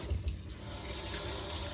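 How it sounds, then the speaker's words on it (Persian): Herbs for ash reshteh are rinsed under a running kitchen tap, a steady close splash of water into the sink with no voices. "بعد هم آب کشش کنید."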